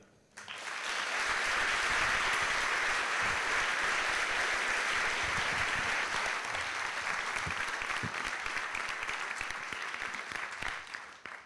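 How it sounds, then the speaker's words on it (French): An audience at a Halloween storytelling evening bursts into sustained, dense applause that holds strong for several seconds, then slowly thins toward the end. "Merci d'applaudir"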